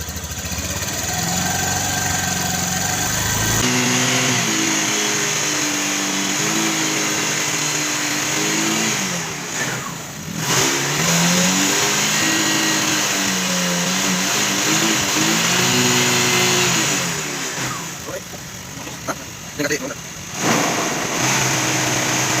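Engine of a Honda Vario 150 fi motor scooter with a red warning light on, a loud steady idle that is blipped up in revs several times, rising and falling, close to the machine.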